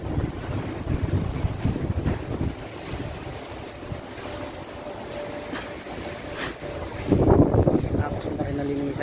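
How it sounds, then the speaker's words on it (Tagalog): Strong outdoor wind roars and buffets the microphone in uneven waves, with a stronger blast near the end and faint voices in the background. "lakas ng hangin sa labas"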